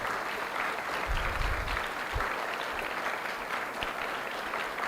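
Children clap loudly for their teachers at a Jain temple gathering, a dense continuous wash of applause with a couple of low thumps partway through.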